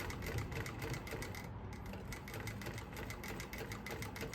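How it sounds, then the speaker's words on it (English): Steady whirring of a sewing machine sewing a second line of top stitching on selvedge denim jeans, a continuous mechanical hum with a fast needle rhythm running close and even throughout, no voices. "I can go ahead and add a second line of top stitching. I'm doing this one from the exterior, just using my presser foot as a guide"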